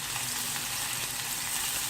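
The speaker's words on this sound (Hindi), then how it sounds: "साथ ही प्याज डाल दें। थोड़ा सा इसको फ्राई करें" Chopped onion fries in a pan for homemade red chilli sauce, producing a soft, steady sizzle with light crackling and no voices.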